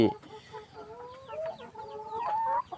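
Laying hens clucking and calling in a coop, bought at 190 baht each and fed layer feed, with a busy overlapping flock of clucks and rising squawks at moderate distance, growing louder toward the end.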